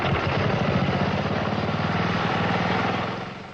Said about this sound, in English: This engine is powered mostly by Mountain Dew, along with a bit of gasoline.